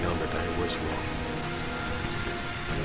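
Steady, dense rain from the video game Heavy Rain, an even hiss of drops falling on surfaces that fills the whole stretch without pause and without any clear voice.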